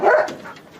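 An attack dog lets out a single sharp bark, loud and close, that quickly trails off into a softer huff.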